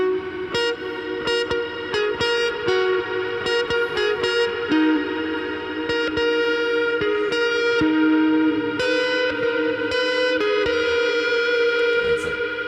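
Loud distorted electric guitar riff from a song, drenched in heavy reverb, chords ringing and smearing together continuously with a washy, echoing tail.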